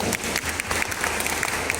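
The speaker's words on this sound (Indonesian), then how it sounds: "tepuk tangan yang berbahagia" Brief, dense applause from a crowd at a gathering, with many hands clapping continuously and close to the microphone. No speech is heard over it.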